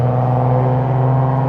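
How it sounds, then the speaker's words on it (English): A loud car revving near Los Angeles International Airport, a harsh, steady droning engine note held close and loud throughout, with no talk. "Jeez Louise, that's a loud car."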